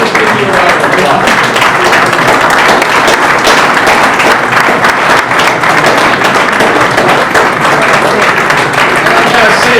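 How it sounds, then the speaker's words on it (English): Dense, sustained applause from a festival crowd honoring a board of directors, loud and continuous throughout with a broad wash of clapping and no break. "Let's give you a round of applause."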